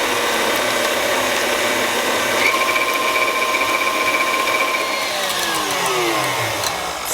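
An electric mixer blends egg white bread batter made with egg white powder, a loud steady motor whine with gear hum, close by, shifting slightly in pitch toward the end.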